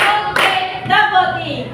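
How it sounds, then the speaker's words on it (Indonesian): Children in a grade 6 elementary science class clap together in a counting clap game, with a couple of sharp group clap bursts amid light classroom voices. "Tepuk 1, tepuk 2,"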